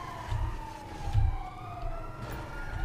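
Police sirens in the video game Grand Theft Auto 5 wail in a steady falling sweep, moderately loud over low engine rumble and game background noise.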